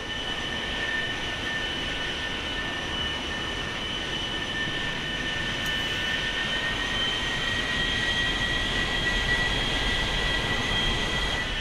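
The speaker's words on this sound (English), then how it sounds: "Please taxi to the runway." A-4 Skyhawk jet in the DCS World video game taxis toward the runway, heavily loaded, with a steady, loud engine roar and a high whine held throughout, close and unbroken.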